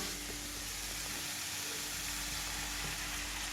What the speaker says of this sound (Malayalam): വിനാഗിരി ഒഴിച്ചെടുക്കാം കേട്ടോ.